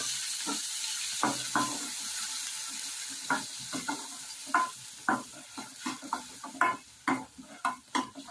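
Onion paste sizzling and frying in hot oil in a pan, stirred with a spatula that scrapes and taps in irregular bursts over a steady hiss, close up, no talking.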